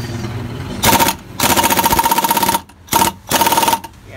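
An air gun fires in rapid automatic bursts, each a loud, fast mechanical rattle lasting about a second, separated by brief pauses, with no talking over it.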